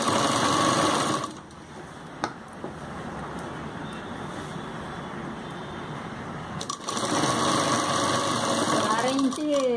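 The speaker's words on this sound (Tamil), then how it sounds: "அதை கொஞ்சம் ஈவனாக வெட்டி விட்டுட்டு கீழே மடிச்சு தைக்கலாம்." A sewing machine stitches the folded hem of an umbrella kameez, running as a steady, close, whirring drone for most of the stretch and briefly easing off near the start, while a person talks over it.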